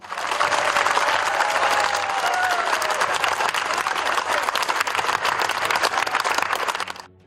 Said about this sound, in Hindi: कुछ देर तक तालियां यूं ही बजती रहीं